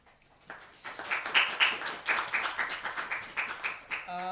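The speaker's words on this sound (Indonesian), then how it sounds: "tepuk tangan untuk Wani Tombo" A small group claps in a quick rhythmic pattern for Wani Tombo during an arts program, the beats rising after a quiet start, with a voice breaking in briefly at the end.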